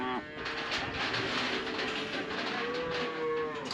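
Cattle moo repeatedly in a livestock chute during an outback roundup for tagging, with long drawn-out calls over a steady din of shuffling animals and farmyard background; bird coos are faintly mixed in.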